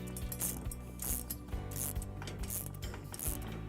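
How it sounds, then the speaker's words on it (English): Spanners tightening a nut and bolt on a Cobra GCT320HD garden hand cart, giving a close, quiet series of rhythmic ratcheting clicks and metallic scrapes repeating roughly every half second. "we can tighten that one up with the spanners"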